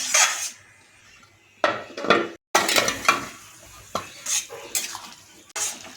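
Metal lid set down on a pot of Bengali fish curry with pomfret, aubergine and potato, giving a few close clattering knocks of cookware among quiet kitchen handling.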